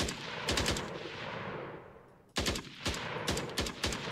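Rapid automatic gunfire in a video game, fired in bursts of sharp shots, then a pause with steady background noise before more bursts resume.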